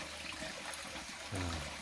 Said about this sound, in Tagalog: Daghan tubig diri guys na, oh